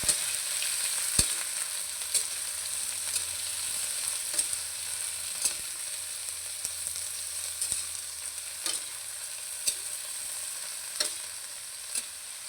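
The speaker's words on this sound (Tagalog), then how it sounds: "Nilalagay na rin natin ang ating tirang ulo ng hipon. Then, i-mix lang natin." Leftover shrimp heads stir-fried in a pan for a Filipino ginisa dish, a constant bright sizzle with soft periodic scrapes and clicks of stirring, close and steady, no voices.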